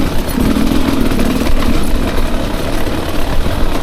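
A Beta 300RR Race Edition two-stroke dirt bike engine runs steadily and loud while being ridden on trails, a continuous close drone with slight throttle variation throughout.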